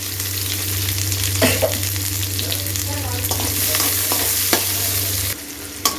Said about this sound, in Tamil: போட்டு இது நல்லா வதக்கி விடுங்க